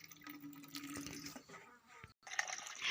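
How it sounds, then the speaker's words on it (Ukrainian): Water poured from a tap into a small bucket for watering plants, a steady splashing stream that breaks off briefly then resumes, faint and close. "мені наливаєш у відерці, щоб я поливала"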